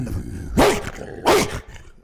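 A man imitates a wolf's breathing with two harsh, raspy breathy bursts from the chest, close and loud, with a short pause between them.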